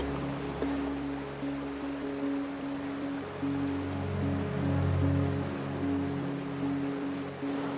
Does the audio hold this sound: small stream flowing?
yes